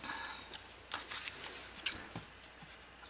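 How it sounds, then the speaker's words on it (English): Long scissors snip through paper for a mini album in a fancy box, giving a series of quiet, crisp cutting strokes at close range with a soft rustle between them. "I want to use long scissors. I want to get a nice cut on that."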